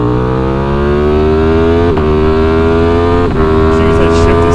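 A Ducati Streetfighter V4S or KTM Super Duke 1290 R sport motorcycle engine revs loud and close, its harmonic tone climbing steadily through the gears with two quick shift breaks, and no talking over it.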